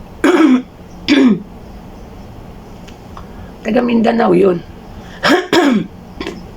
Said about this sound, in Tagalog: Sorry, inuubo talaga ako.